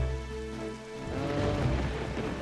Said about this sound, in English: And it's raining. Of course it's raining.